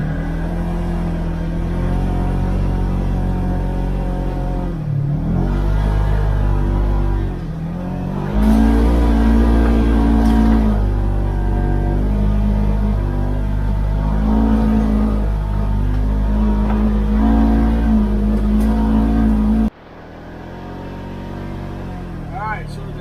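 Off-road motorbike engine revving hard on a steep, rutted hill climb at Mt Baber, a loud continuous rumbling drone that surges in pitch, drops out briefly as it stalls, and then roars back, with voices talking over it.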